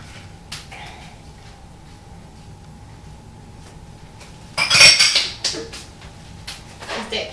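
Pans of apple cobbler are put back into the oven with a quiet metallic clatter and a brief burst of clinking and rattling, then a few lighter knocks.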